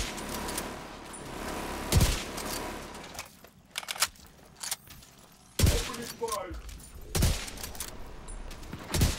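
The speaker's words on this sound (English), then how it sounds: "Opening fire." Gunfire in The Division 2 video game, several loud sharp bursts spaced a few seconds apart over a busy game background, with a voice speaking in between.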